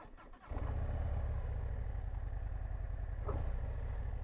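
A 2025 Harley-Davidson Low Rider S motorcycle with a 117 engine cranks and catches after a brief quiet moment, then settles into a steady, rumbling idle close by.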